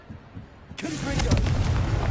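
Confringo blasting spell in Hogwarts Legacy, a sudden booming explosion that bursts in and rumbles on loudly to the end after a quiet lead-in.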